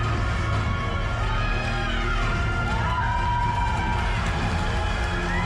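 Crowd cheering and whooping at a WNBF UK pro natural bodybuilding show, a steady dense roar of voices with a few higher shouts rising out of it, loud and continuous throughout.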